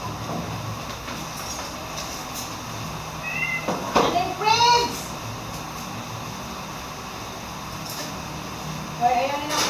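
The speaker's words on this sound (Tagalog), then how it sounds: "Ang aking mga babies na pusa." Several kittens meow in short, high rising cries, a few bunched near the middle and another near the end, over a steady background noise.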